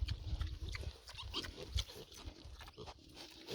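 A pig grunting and snuffling while eating, close-up low grunts and chewing and rooting noises in an irregular rhythm, fairly quiet, with no talking.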